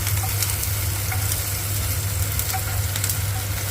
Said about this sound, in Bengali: এইবার কড়াইয়ে চেপে গেছে, সাদা তেল দিয়েছি, কড়াইয়ে সাদা তেল পড়েছে, দিয়ে পেঁয়াজটা ভাজছি।